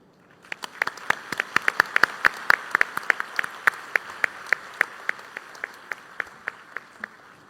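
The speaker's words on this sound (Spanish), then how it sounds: "Recibámoslo con un fuerte aplauso." Applause at a university engineering graduation ceremony greets a speaker, a sparse scattering of distinct, sharp individual claps building in the middle then thinning toward the end, fairly close and alone without talk.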